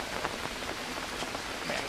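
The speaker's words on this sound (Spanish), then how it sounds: "aquí se supone que ya está lloviendo" Steady rain pours down in the jungle survival game Green Hell, a dense even hiss of drops pattering on surfaces with no voices, continuous and fairly close throughout.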